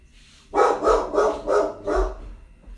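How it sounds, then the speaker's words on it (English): A pet dog barks indoors four times in an even rhythm, loud and close, with no talking over it. "I know you hear my dog."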